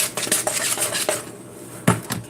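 A spoon stirring margarine for icing in a mixing bowl, with repeated clinks and scrapes against the bowl at an uneven pace, close and fairly loud, one sharper knock near the end.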